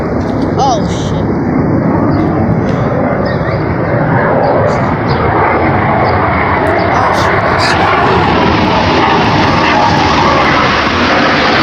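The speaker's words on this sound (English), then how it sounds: "Those planes right there travel faster in light." Blue Angels jet planes roar overhead at an air show, a loud, sustained broadband rush that fills the whole stretch, with scattered crowd noise beneath.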